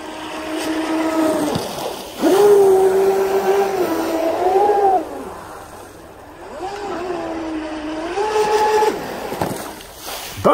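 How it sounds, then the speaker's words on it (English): A close Deltaforce 35 RC boat motor whines and rises in pitch as its propeller pops and sputters on the water in two surging passes. "Boat bashing, prop popping."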